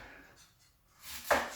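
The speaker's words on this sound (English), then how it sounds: "I cut the leader off" A knife cuts the end off an onion: one short, crisp chop onto a board, heard alone and close near the end after a quiet lead-in.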